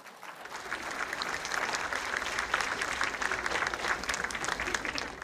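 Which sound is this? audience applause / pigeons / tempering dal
audience applause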